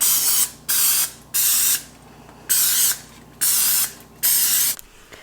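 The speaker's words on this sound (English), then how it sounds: "spray our muffin tin with some cooking spray" Cooking spray is shot onto a muffin tin in six loud, even hissing bursts of about half a second each, separated by short pauses.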